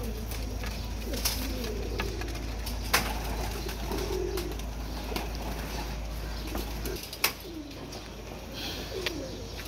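Flying pigeons at their stand coo in low, rolling phrases, with scattered light taps and flutters of movement throughout and a few sharp clicks standing out.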